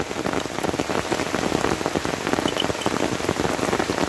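Steady rain pattering on surfaces outdoors in the countryside, a dense, continuous drumming of drops, close and loud throughout with no voices.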